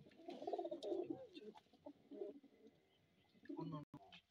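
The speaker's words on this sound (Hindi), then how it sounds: "इन परिंदों का आप शौक करें बहुत ही प्यारे पेजियंस हैं" Several pigeons coo in low, soft bursts at a breeder's loft, the murmuring calls clustering in short runs with brief pauses between them and faint background voices mixed in.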